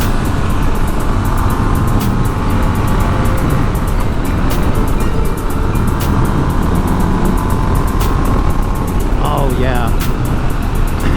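Triumph Scrambler 1200 motorcycle engine rumbling steadily while riding, continuous and loud under heavy wind roar, with no pauses or clear revs standing out.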